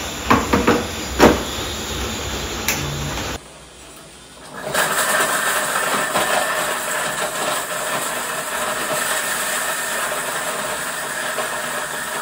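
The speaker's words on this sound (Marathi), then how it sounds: "आता आपण हे मिक्सरला लावूया आणि ह्याची बारीक पेस्ट करायची आहे खूप" A steady high-pitched mechanical whir runs continuously after a brief pause, a mixer grinder spinning at full speed grinding a fine paste for kokum coconut drink, with no one speaking.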